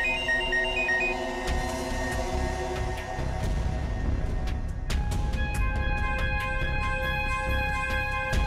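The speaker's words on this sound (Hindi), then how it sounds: "मोहन, प्लीज मोहन, फोन उठाओ।" A phone ringtone plays over a tense musical background, its repeated tones standing out clearly with no talking.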